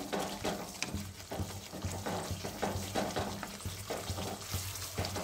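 Ghugni with green peas and potato sautéing in a pan after turmeric and cumin powder go in, a steady sizzle broken by repeated scraping stir strokes, close and fairly loud with no voices.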